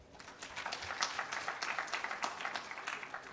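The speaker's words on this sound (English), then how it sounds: "A round of applause for each one of you." Applause from an audience at the end of a careers session, building quickly into a lively, fairly close patter of many clapping hands that holds steady for a few seconds.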